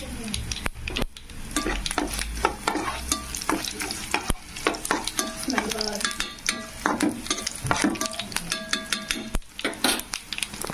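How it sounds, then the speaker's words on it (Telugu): Tempering spices fry in oil for a potato dish, a sizzling pan under busy, uneven stirring with frequent metallic scrapes and clinks of the utensil against the pan. "పోపు వేసుకొని బాగా వేపుకోండి"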